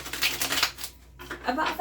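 Tarot cards are shuffled by hand in short riffling bursts separated by a brief pause, close and crisp against a quiet room.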